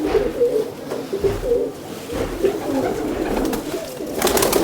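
Domestic pigeons in a household collection coo in repeated low, throaty rolls, close by, with rustling and handling noises between the calls.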